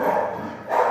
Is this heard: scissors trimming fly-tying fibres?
no